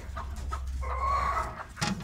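A nesting hen clucks a few times at close range, short soft calls spaced across a couple of seconds with quiet pauses between them.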